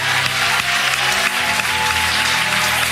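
A church congregation claps loudly and continuously, a dense wash of applause over sustained musical tones, with no pauses.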